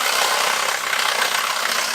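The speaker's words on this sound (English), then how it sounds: "Again, just using a battery operated Sawzall." A battery-operated Sawzall reciprocating saw cuts in a dense, rapid rasping buzz that pulses steadily for about two seconds, close and loud.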